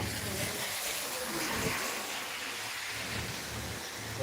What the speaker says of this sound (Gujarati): મિત્રો કડાકો થયો કડાકો હવે વરસાદ આગળ આવી જ જાય